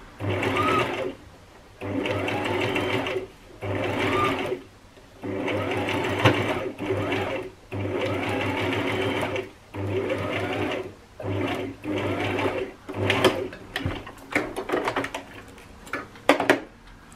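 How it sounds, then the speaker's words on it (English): A sewing machine stitches a zigzag over a pipe cleaner on a reversible satin silk mask, running in loud, close bursts of rhythmic whirring with short stops between, about a dozen runs in a row. "you're going to use a zigzag stitch to stitch it down"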